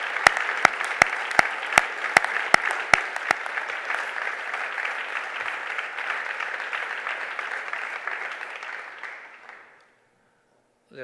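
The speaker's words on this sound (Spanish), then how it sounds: "Y os pido un aplauso para ellas," Audience applause for victims at a remembrance event in Bilbao, opening with a few loud, sharp individual claps before a steady roar of clapping from a large crowd that fades out near the end.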